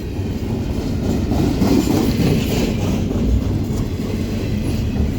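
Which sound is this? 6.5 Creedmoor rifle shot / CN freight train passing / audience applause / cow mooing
CN freight train passing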